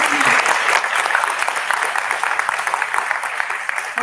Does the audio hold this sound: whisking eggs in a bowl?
no